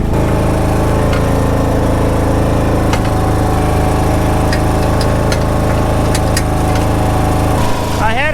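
A small gasoline engine, freshly fueled after old gas was drained from its carburetor, runs loud and close in a steady idle-like drone throughout, with a few faint clicks over it.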